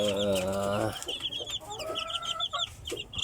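Native backyard chickens kept together with four chicks: a hen lets out a loud, drawn-out squawking cluck up close, then shrill, high chick peeps chatter repeatedly beneath softer clucks.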